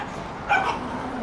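Dog yelping while being punished, a single short, fairly faint whimpering yelp in the middle of a quiet room with low background noise.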